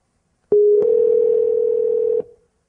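Steady telephone dial tone heard during a call to a lab in California; a click opens it, a second click follows, then an unbroken tone holds for about two seconds before cutting off.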